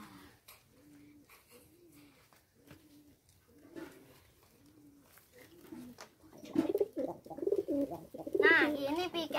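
A racing pigeon coos in a repeated rhythmic series of low close calls, growing louder and busier toward the end as other pigeon sounds and some voices join in.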